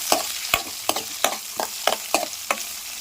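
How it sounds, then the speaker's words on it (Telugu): Chopped onions and green chillies frying in a pan while a spoon stirs them, about nine sharp scraping strokes in a regular rhythm over a bright sizzle, close and clear with no talking. "ఇప్పుడు కట్ చేసి పెట్టిన ఉల్లిపాయ ముక్కలు కూడా వేసుకుంటున్నాను దీంతో పాటు తరిగి పెట్టుకున్న పచ్చిమిర్చి ఒకసారి బాగా కలిపేసుకుందాం"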